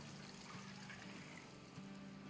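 Water poured into a pot of rice, a continuous trickling, splashing flow heard close and steady from start to end.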